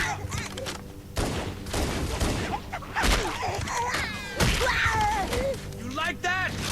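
Pistol fire aimed at grunts in Halo Anniversary, repeated sharp shots in quick bursts under a busy mix of game voices and alien chatter, with someone talking over the action.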